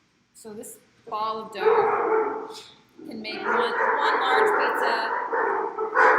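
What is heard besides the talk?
dogs barking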